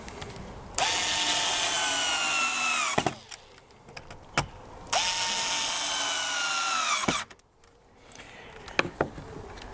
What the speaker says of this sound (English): So a couple of small screws, 9mm, just screw this into place.